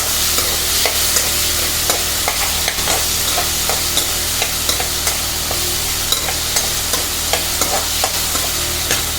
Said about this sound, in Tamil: கொஞ்சம் நேரம் நல்லா வதக்கணும்.